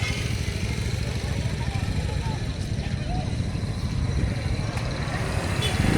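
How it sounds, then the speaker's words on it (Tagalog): A motorcycle engine rumbles steadily close by outside a crowded church in San Jose del Monte, Bulacan, with busy crowd chatter and voices running underneath. "Papasok na motor."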